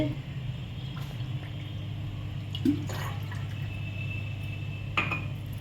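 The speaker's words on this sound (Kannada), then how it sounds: "ಮೂರು ಕಪ್ ನೀರು ಹಾಕಬೇಕು" Water pours into a metal frying pan in a steady stream, about three cups, with a few clinks of the vessel over a low hum.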